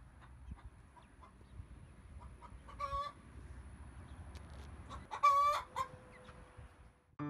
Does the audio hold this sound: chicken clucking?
yes